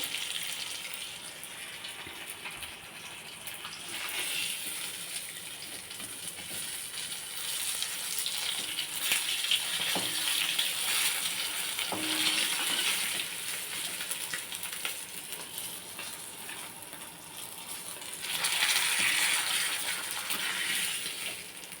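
Fish frying in hot oil in a home kitchen, a steady hissing sizzle that swells and fades over many seconds, with occasional small clinks and taps, continuous and close, no talk.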